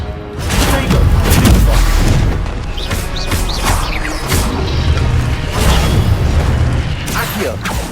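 An Incendio fire spell in Hogwarts Legacy bursts with a loud whooshing boom and crackling flames, layered over game music and ambient effects with spoken voice lines.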